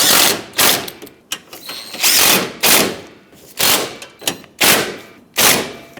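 A power tool snugs up bolts on a hood latch of a 2007-2014 Chevrolet Silverado 2500HD, running in short loud bursts of whirring and rattling about half a second long, repeated with brief pauses between them, close up.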